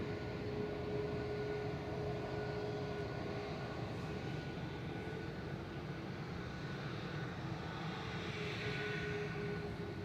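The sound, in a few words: Lufthansa airliner arriving from Munich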